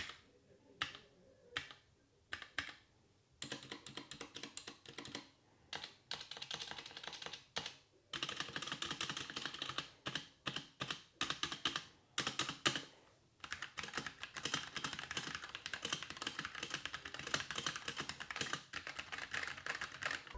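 Fast typing on a Womier K66 mechanical keyboard with Gateron brown switches, a dense stream of muted clacks in bursts with short pauses, close and fairly quiet, no voices.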